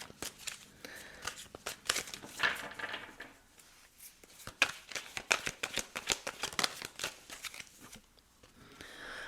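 Louise Hay wisdom cards are shuffled by hand in a rapid series of crisp riffling flicks and soft slaps, close up and alone, pausing briefly near the end.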